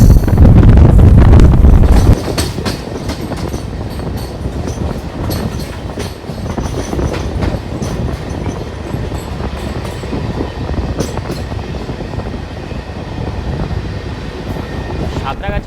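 A Santragachi to Jhargram MEMU train runs along the line, opening with a loud rush of wind buffeting the microphone, then settling into a steady rumble with wheel clatter and occasional squeals, close and continuous.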